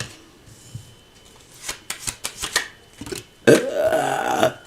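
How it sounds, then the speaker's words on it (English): A single loud, close burp, low and drawn out for about a second, follows a few sharp taps and rustles of shuffled cards. "That burp was something else."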